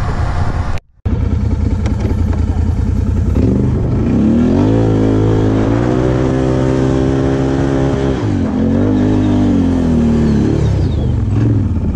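A quad bike on a gravel pit revs hard and accelerates, its engine loud and close with rising and falling pitch as the throttle is held open, sustained over several seconds with no talking.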